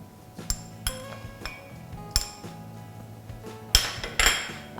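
Apple pieces drop into a ceramic coffee mug in a series of clinks and knocks, roughly eight sharp hits spaced unevenly and close up, with no talking.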